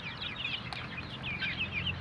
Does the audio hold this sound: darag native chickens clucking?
yes